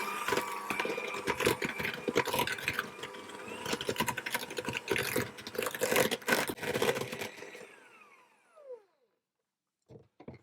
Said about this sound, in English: And then I'll add in my egg and my vanilla extract and whisk those and get those fully combined as well.